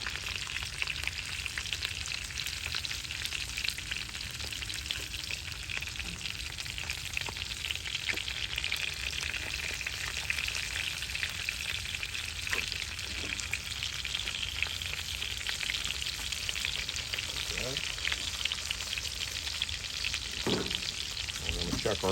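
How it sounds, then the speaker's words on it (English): Butter and olive oil infused with garlic and rosemary is basted over a ribeye steak in a cast iron pan. It makes a loud, continuous sizzle with frying crackle and occasional scraping throughout, and no one speaks. "I'm going to baste the butter, olive oil infused with garlic and rosemary"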